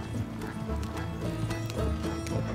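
Horses gallop in Red Dead Redemption 2, a quick, steady patter of hooves with a brief whinny, heard under characters talking.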